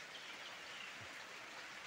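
Steady rain falls outside as a faint, continuous hiss with no change in level or rhythm and no voices.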